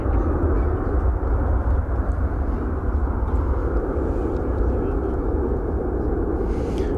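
A fixed-wing airliner at Dallas Fort Worth airport gives off a loud, steady, low engine roar that holds for several seconds, close and continuous, with no talk over it.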